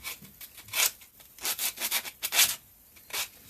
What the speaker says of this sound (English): We have to make sure it's nicely sanded down